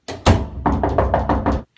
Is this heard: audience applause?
no